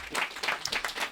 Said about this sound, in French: On peut encore applaudir Franck